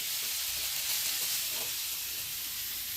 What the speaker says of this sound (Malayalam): സവാള നന്നായി വഴറ്റുന്നതിനാണ് കുറച്ചധികം ടൈം എടുക്കുന്നത്